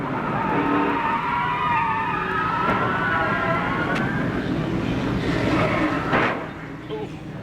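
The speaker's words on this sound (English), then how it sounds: "Listen to Randy Porter's car." A 1996 NASCAR Busch Grand National race car at Nazareth roars on the throttle, a loud sustained engine drone with shifting pitch and tire or crowd noise, easing slightly near the end.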